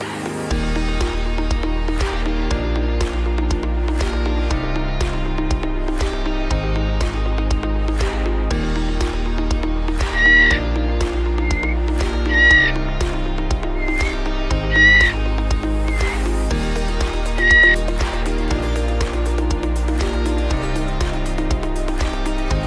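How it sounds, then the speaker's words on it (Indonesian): A male trotol bird gives repeated ngeriwi and ngeplong calls, short bright bursts that recur through the middle stretch over a steady, rhythmic musical backing. "suara trotol jantan itu ngeriwi dan juga ngeplong"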